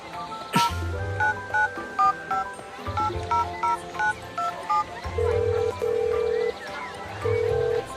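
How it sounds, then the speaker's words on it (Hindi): Telephone number dialed on a keypad, a rapid run of short paired beeps in two bursts, then a steady ringback tone pulsing three times, clear and close. "तुम उन्हें फोन तो लगाओ"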